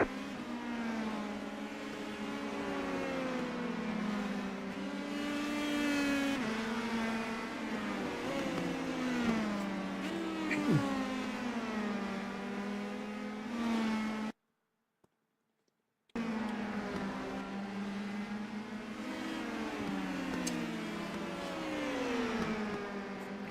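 Race car engines roar steadily in a racing video game, with layered high-pitched whines rising and falling as cars accelerate and shift, broken by a brief silent gap midway.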